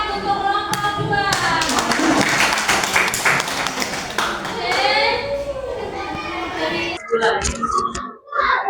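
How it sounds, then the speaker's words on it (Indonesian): A classroom of children claps for a student group, a burst of quick sharp hand claps and taps mixed with children's chatter, then talking takes over toward the end. "tepuk tangan untuk kelompok 2"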